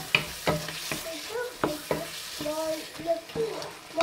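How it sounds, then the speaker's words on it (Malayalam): Butter chicken curry being stirred after lemon juice goes in, a spoon knocking and scraping the pan in repeated strokes over a soft simmering sizzle, close and moderately loud. "ഇനി ഇതിലേക്ക് ലെമൺ ജ്യൂസ് ഒഴിച്ചു കൊടുത്ത് മിക്സ് ചെയ്യുക"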